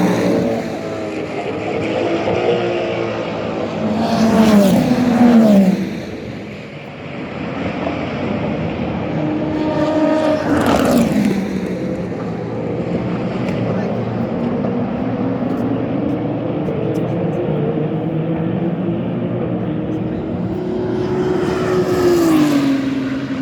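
Ferrari race cars sweep past one by one in 24 Hours of Le Mans practice, each engine note swelling and falling as it passes, with three distinct passes and a steady distant drone between them.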